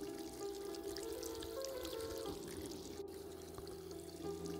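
A water tap runs in the video game The Kite, a quiet, even pouring stream that holds steady throughout, with no one talking.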